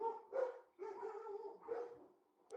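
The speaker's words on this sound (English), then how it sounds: "These dogs are the worst." Several dogs bark in short repeated bursts, fairly close and loud, with yips between them and no talk over them.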